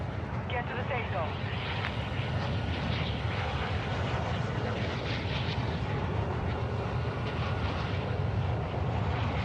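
Steady, loud drone of an airplane engine in a battle royale video game, a constant roar filling the whole stretch without break.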